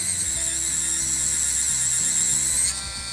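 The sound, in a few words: Action 3D pen motor extruding filament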